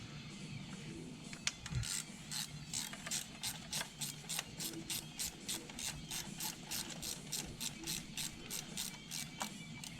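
A ratchet works bolts loose on a BMW N55 engine during fuel injector removal, a fast run of evenly spaced clicks, close and steady, after a brief clunk.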